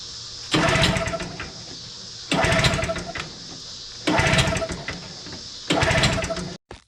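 An old outboard engine on a john boat is cranked with the choke pulled. Four separate start attempts each give a loud, sputtering burst of about a second and a half, with short pauses between them.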